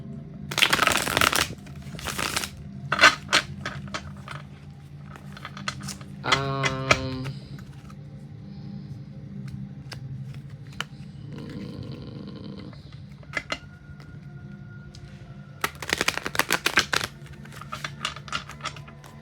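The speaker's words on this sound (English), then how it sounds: "you don't need to shuffle anymore" Tarot cards being shuffled in repeated bursts of rapid riffling and flicking, close up, with quiet pauses and soft handling noises between.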